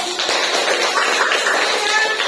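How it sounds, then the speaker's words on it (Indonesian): Classroom applause for student groups who have just presented, a dense, steady patter of many hands clapping together throughout, fairly loud and close, with no talk over it. "Kita kasih aplaus dulu."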